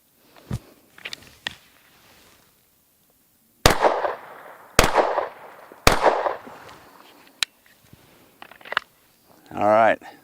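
Pistol shots ring out at an outdoor shooting range, a few sharp cracks spaced apart with quiet gaps between them, plus some faint clicks and brief speech nearby.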